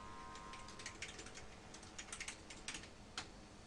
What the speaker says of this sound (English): We type in our password and we're granted access to